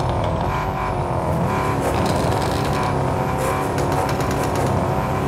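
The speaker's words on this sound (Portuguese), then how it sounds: "Acelera os dois aí." Two old cars in Car Parking Multiplayer rev their engines together, a loud, dense, continuous roar with rising surges and no talk.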